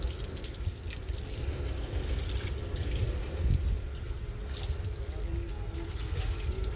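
Steady running water splashing as a fishpond is rinsed after brushing, a continuous wash of sound with faint background noise.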